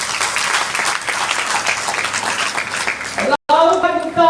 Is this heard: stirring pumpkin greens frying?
no